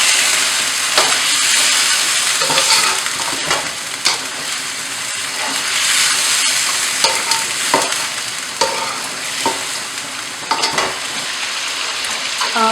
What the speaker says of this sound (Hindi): मटन को जो है हमने 5 मिनट लहसुन अदरक के पेस्ट में भून लिए हैं।